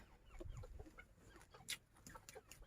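Bantam chickens cluck softly in the background of an open field, scattered short calls over a quiet outdoor ambience with a few sharper sounds.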